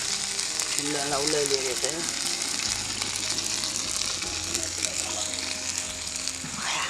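Fish wrapped in banana leaf fries in a pan with masala, a steady close sizzle running throughout, with scraping and a voice speaking briefly over it.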